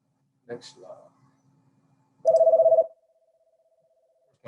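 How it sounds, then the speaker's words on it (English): A phone goes off during a presentation with a short burst of pulsing electronic ringing tones at moderate volume, followed by a thin lingering tone after a brief stretch of talk. "My phone is ringing."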